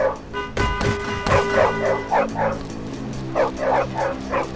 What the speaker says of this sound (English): Oh, this goddamn dog again.